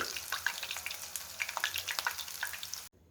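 Mushroom pieces deep-frying in hot oil give a steady, close crackling sizzle full of small pops, ending abruptly in near silence.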